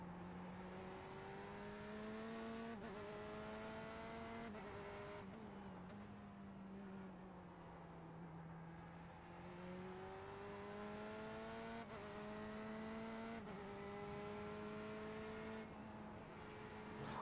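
The Corvette C8.R race car engine in iRacing at Watkins Glen in an IMSA session, a continuous loud engine drone rising in pitch through the gears with regular short breaks at each upshift.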